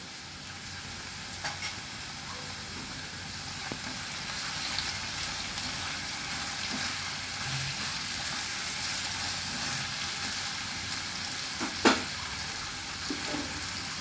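Salted potatoes crackle and sizzle as they fry in a pan, with occasional scrapes and clinks of stirring, including one sharper knock near the end.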